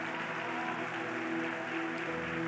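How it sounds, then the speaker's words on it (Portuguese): A church congregation applauding hard, a steady dense wash of many hands clapping together throughout, fairly distant and even with no voices over it. "Dê uma salva de palmas mais alto que você puder."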